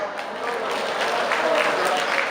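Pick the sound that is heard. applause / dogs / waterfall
applause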